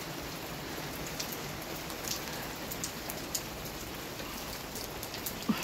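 Steady rain falls in sunshine in a continuous hiss, with occasional louder drops pattering on a nearby surface.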